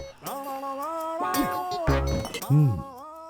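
Glass clinks and shatters in a dubbed action-movie scene, a sharp burst near the middle among ringing tonal sounds and a second clinking hit toward the end.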